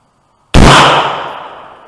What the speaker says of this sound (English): Alright, 2 shots, Aimpoint Pro only.